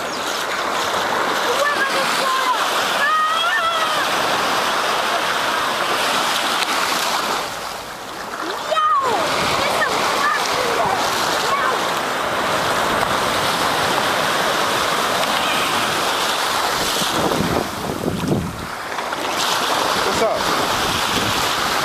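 Sea waves splash and wash onto the shore beside a seaside restaurant, a steady broadband rush with surges and a brief lull partway through, close and fairly loud, with faint voices at moments.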